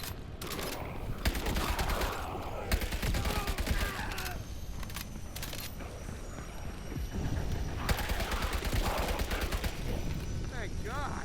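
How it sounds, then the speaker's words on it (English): Gunfire in the video game FBC Firebreak as zombie enemies shoot back, rapid bursts of shots repeating throughout over busy game noise, with someone talking now and then. "Some of these zombies shoot back."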